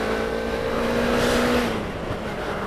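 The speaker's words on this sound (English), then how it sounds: "oh my god, that engine sounds sex." A 2018 Suzuki GSX250R motorcycle engine hums at a steady pitch while riding, fading slightly as revs drop toward the end, with constant wind noise.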